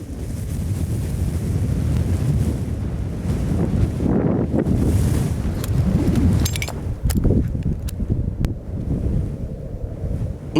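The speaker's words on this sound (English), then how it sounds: "The most abundant resource here is the wind" Strong wind blows across open desert land with sparse vegetation, a loud continuous rumbling buffet with gusts that swell and ease, close and unbroken.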